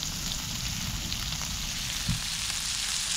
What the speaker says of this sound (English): Throw the sausage on there. And we'll get to cooking. Already nice and sizzling.